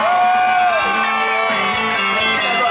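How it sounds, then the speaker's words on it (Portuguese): Crowd cheering and whooping for Rui at a birthday celebration, loud and continuous, with shouts over a dense wash of voices and a background tone throughout. "Uma salva de palmas para ele, galera."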